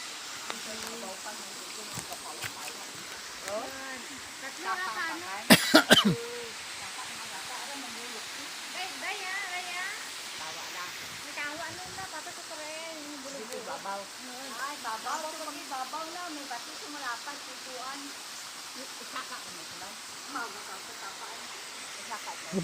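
Busay Falls at Sitio Kanturayan in Bugasong, Antique, pours with a steady broadband rush. The water roars continuously while voices talk over it, and a few sharp knocks come near the start.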